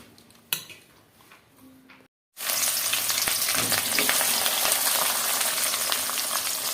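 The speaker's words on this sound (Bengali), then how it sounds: "পেঁয়াজ মরিচ দিয়ে দিলাম গরম মশলা দিয়ে দিলাম তেলটা প্রথমে একটু ভালো করে গরম করে নিয়েছি" Onions, chilies and garam masala in well-heated oil: after some soft kitchen clatter and a brief silence, a loud, close, continuous frying sizzle begins, dotted with clinks of a utensil against the pan.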